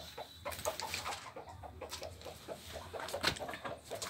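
Aseel hens on a farm, heavy-legged birds of a fighting breed, give soft, repeated clucks at close range over a busy farmyard background, with scattered short calls and no talking.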